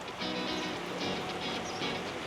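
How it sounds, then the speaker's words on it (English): Rain pours steadily on a day in Vientiane, a dense continuous hiss of drops on surfaces with no pauses, close and even throughout. "Rainy day in Vientiane."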